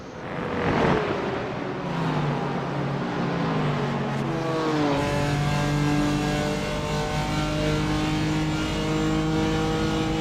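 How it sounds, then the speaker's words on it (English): A BMW GT4 race car engine in a racing video game revs hard and climbs through the gears, a thin, buzzy high-pitched whine sustained at steady loudness, no voices. "I must say the sound of the Beamer is probably the tinniest I've heard for a long time"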